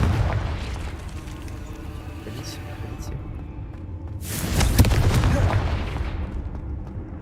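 A Confringo blasting spell from Hogwarts Legacy erupts as a loud booming burst midway through, rising out of steady rumbling game noise, with a voice talking in the background.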